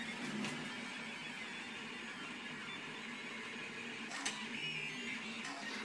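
A Rostock Max 3D printer prints a lawn mower handle in ABS at low resolution, giving a faint continuous whirring hum with soft motor whines and one small click, with no talk.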